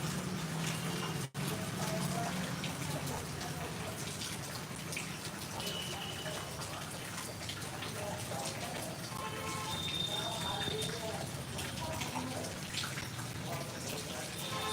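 Steady, dense monsoon downpour pattering on a surface in Hingoli, Maharashtra, a constant wash of drops with no talk, continuous from start to finish.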